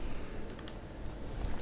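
Brief burst of typing on a computer keyboard while entering a formula in Microsoft Excel, a few faint quiet keystroke clicks against a low background hum.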